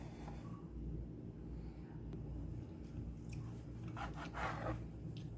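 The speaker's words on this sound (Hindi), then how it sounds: "इसके हम कोने काट देंगे, किनारे जो हैं वो काट देंगे" A knife trims the crusts off bread slices, giving a few soft, crunchy scraping cuts near the end over a steady low background hum.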